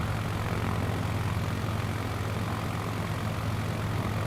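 Low-flying propeller plane in Flight Simulator, its engine a steady, loud drone with a strong low hum that holds constant throughout, with no voices over it.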